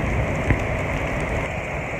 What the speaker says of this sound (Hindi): क्योंकि बारिश बहुत तेज़ होने लगी है